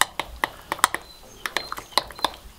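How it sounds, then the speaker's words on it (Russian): A spoon clinks against a bowl while stirring a mixture, a quick irregular series of bright metallic taps, close and fairly quiet, with no talk. "Но ничего, размешаем ложечкой."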